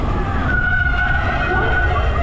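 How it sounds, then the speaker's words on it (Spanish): A rally car climbs a hill road at a festival, its engine a steady loud roar with a sustained tonal whine, close by and continuous. "Recuerden que por ahí viene el coche."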